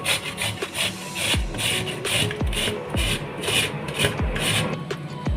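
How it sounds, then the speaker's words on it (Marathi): Peeled potatoes rubbed on a hand grater in a home kitchen, a steady run of close, rasping scrapes in a regular back-and-forth rhythm with soft knocks as each stroke ends. "नंतर आलूला किसणीने छान किसून घेऊ."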